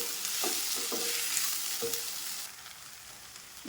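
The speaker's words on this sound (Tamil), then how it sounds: "தக்காளி போட்டு நல்லா வதக்கலாம்" Chopped tomatoes sauté in a hot pan for an egg kurma, giving a steady close sizzle with a few soft stirring scrapes and no talking.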